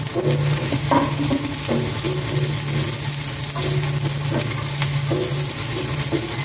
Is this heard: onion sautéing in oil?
yes